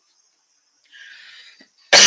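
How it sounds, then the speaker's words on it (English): A single sharp, loud cough bursts out at the end, after a stretch of silence and a soft rustling breath. "So I don't die from coughing."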